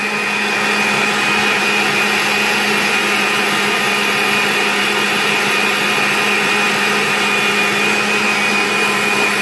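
An electric mixer whisks génoise sponge batter of eggs and sugar in a tall bowl at increased speed, giving a loud, continuous, steady motor whine with no pauses.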